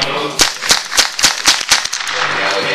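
A rapid string of about eight outdoor gunshots from a .22, evenly spaced sharp cracks over a steady background hum, fairly close and loud.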